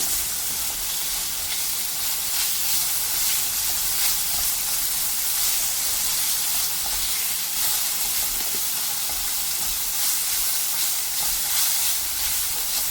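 Ginger garlic paste fries in a pan with a steady, dense sizzle and hiss that holds unbroken and fairly loud throughout, close by, with faint stirring underneath and no voices.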